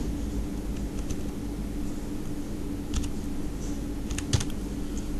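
A few scattered keystrokes tap on a computer keyboard as a birth date is entered, sparse clicks rising briefly above a steady background hum.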